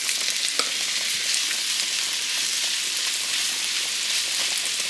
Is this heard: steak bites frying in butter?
yes